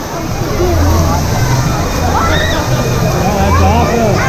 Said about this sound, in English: look at the little waves down here